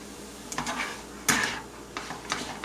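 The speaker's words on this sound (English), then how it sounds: "So let's go ahead and give the onions and that a stir." Onions and peppers are stirred in a pan, with a few scraping strokes and a sharp clank of utensil on metal near the middle, close and fairly loud over a faint background sizzle.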